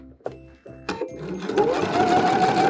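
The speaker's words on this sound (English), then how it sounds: "I'm going to be sewing down the side a quarter of an inch" A sewing machine stitches down the side of a clear raincoat fabric tube, starting with a few separate chunking stitches, then running into a steady close whir.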